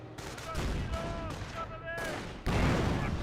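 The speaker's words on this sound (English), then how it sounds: "Another frag grenade there" A frag grenade explodes in a Company of Heroes battle, a loud blast near the end amid ongoing gunfire and explosions, while a commentator talks over the action.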